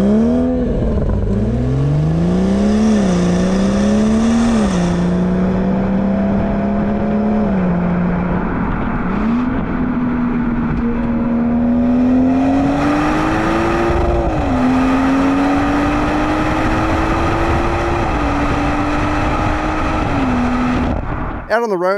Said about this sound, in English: it sounds absolutely glorious. You can't beat these inline sixes.